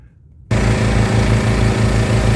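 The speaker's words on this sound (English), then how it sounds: "with the engine idling" A Land Rover Discovery Sport engine idles with a blocked DPF, starting after a half-second of quiet and then holding a steady, loud, even rumble with a regular pulsing beat.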